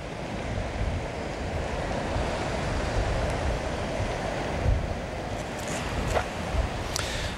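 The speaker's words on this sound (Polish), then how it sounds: "Tomku, jak na Helu? Plaża pośród drzew." Beach ambience on the Hel peninsula, a shore among trees, with a steady broadband rush of surf and some wind buffeting the microphone, continuous and fairly close, with no voices.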